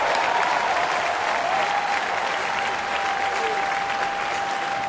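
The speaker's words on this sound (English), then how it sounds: "This crowd reacting to every pitch." Baseball stadium crowd at a Pirates versus Cincinnati game applauding a pitch, a dense, sustained wash of clapping and cheering at full volume for several seconds.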